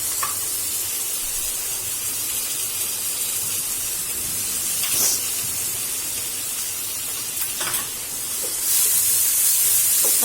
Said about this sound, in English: now I'm going to add 2 tablespoons of tomato puree